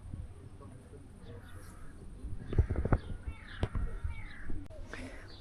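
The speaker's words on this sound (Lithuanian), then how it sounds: "Turėsim katiną 3 dienom." A cat meows a few times in the open in a white-walled Greek town, short close calls over steady outdoor ambience and faint background voices.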